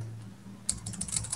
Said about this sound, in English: you can type aws.amazon.com.